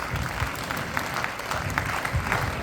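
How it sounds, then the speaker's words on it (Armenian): Audience applause for a children's dance studio group at an Armenian concert in Marseille, a dense, steady wash of many hands clapping throughout, fairly near and continuous. "ծափերը ձեզ, երեխեք ջան"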